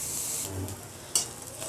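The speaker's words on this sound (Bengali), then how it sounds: "দেখুন, চিংড়ি মাছ ভাজাটা হয়ে গেছে।" Shrimp fry in a pan at a home stove, a soft steady sizzle with stirring scrapes and one brief sharp clink near the end, all fairly quiet with no talking.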